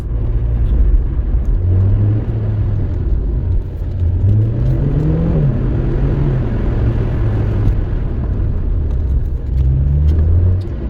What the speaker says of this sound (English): I need to do a little bit of spirited driving from time to time